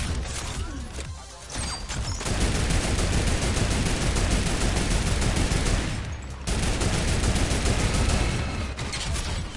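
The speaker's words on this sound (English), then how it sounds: "I'm gonna use a turret." A turret in Fortnite fires a dense, continuous burst of rapid gunfire that runs loud and unbroken for several seconds, pauses briefly, then resumes at full intensity.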